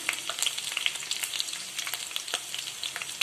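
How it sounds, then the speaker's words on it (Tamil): Onions and garlic sautéing in a pan for Tamil kara kulambu, giving a steady, close crackling sizzle dotted with quick bright pops and occasional light stirring scrapes throughout. "நல்லா வதக்கி விட்டுக்கோங்க. வெங்காயம் நல்லா வதங்கட்டும்."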